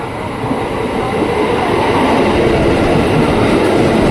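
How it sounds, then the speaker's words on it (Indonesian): A KRL commuter electric train, twelve cars long and bound for Depok, rumbles past up close with a loud, steady roar of rolling wheels and rail noise that holds for the whole stretch, with no talking. "Nah ini KRL tujuan Depok nih, yang kayaknya lebih sepi ya."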